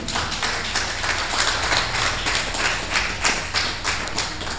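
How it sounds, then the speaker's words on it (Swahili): A church congregation claps in praise to Jesus after a healing testimony, a dense sustained round of applause with a loose, roughly steady rhythm filling the hall from start to end. "Pigie Bwana Yesu makofi"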